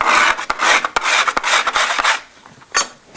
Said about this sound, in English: take your scraper, come in and clean off some of that glue